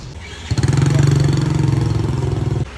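A motorcycle engine runs close by in Vietnam, starting with a sudden jump in level and holding a steady, throbbing idle for about two seconds before dropping away.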